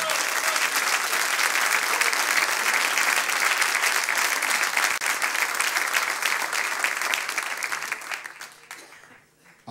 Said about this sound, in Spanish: Un aplauso al Señor, hermano.